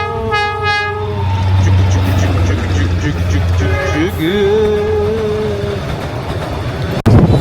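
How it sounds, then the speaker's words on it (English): Train passing close by on the outskirts of Hanoi, Vietnam, with a loud rumbling roar of wagons and a long horn blast, a voice talking over it, ending in a sharp bang. "Here comes the choo-choo train."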